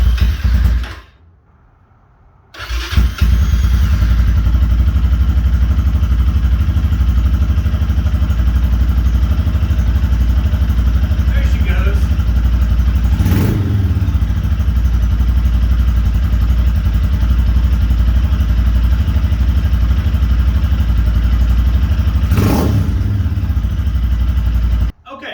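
A 2022 GPX Moto FSE 250E motorcycle engine runs steadily after being started, a loud close rumbling idle that holds throughout following a brief pause at the start, with occasional clanks over it.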